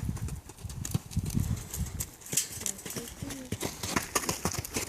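A mare named Nadia moves around a training arena during an equine session, her hooves thudding and clopping in an uneven rhythm at close range over a low background rumble.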